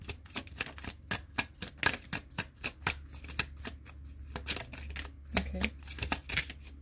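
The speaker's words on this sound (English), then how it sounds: "So I'm going to pull a few cards from this deck." A deck of tarot cards is shuffled and cards are pulled, making soft, close riffling and flicking sounds in quick irregular bursts against a quiet background.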